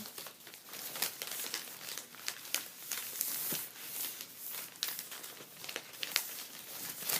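Paper being folded and creased into angled wings for a paper airplane, a close, continuous crinkling with sharp rustles and crisp creases throughout, heard alone without talk.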